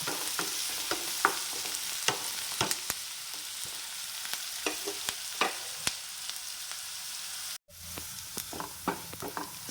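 Onions and curry leaves sautéing in a pan until browned for a soy dry roast: a steady, moderately quiet sizzle broken by frequent spatula scrapes and taps, with a brief dropout near the end.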